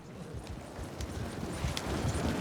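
Hooves of horses pulling a wagon in Red Dead Redemption 2 clip-clop steadily over a constant rumble of rolling wheels, continuous and fairly loud with no talk.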